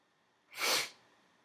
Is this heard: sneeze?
yes